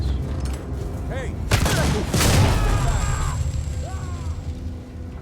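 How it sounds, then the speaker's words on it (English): A flashbang grenade goes off in the Alien: Isolation video game with two sharp, loud bangs in quick succession and a ringing tail. Voices murmur faintly before and after. "That was a flashbang I threw."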